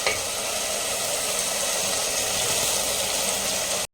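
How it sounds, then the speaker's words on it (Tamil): Steady, even sizzle of tomatoes sautéing in a clay pot for a dried anchovy fish curry with raw mango and brinjal, loud and continuous with no talk, cutting off abruptly at the end. "தக்காளி நல்லா வதங்கட்டும்."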